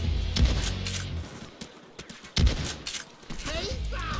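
Shotgun fire in the Payday 2 video game during a jewelry store heist: a few heavy, booming blasts at irregular intervals, with quieter game noise between them.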